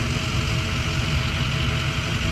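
A 2015 Ford F-250 XLT crew cab with a 6.2-liter gasoline V8 and 182,000 miles idles steadily, a loud, even low rumble close by with no speech.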